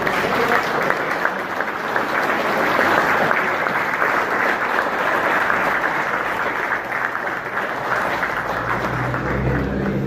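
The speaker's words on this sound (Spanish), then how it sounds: "Un aplauso para todos." A crowd applauds steadily for about ten seconds, a dense, even wash of clapping without pause.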